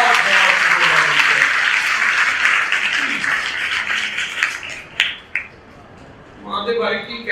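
Loud applause from a congregation fills a church for about five seconds, then thins to a few scattered claps before a voice begins speaking over the fading sound.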